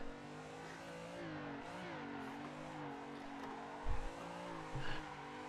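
Engine revving steadily in the Assetto Corsa VR racing game as a car drifts, pitch rising and falling with throttle, with brief low thumps near the end and no talking.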